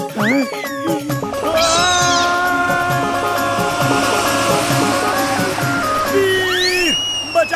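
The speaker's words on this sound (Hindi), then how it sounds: "ये चुलबुल कहाँ से चिल्ला रहा है?" A cartoon cat in a Hindi animated robot-boy show screeches and meows loudly and close, with long wavering, sliding wails that carry on for several seconds, and a few rising squeals near the end.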